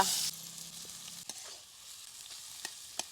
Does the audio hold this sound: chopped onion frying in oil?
yes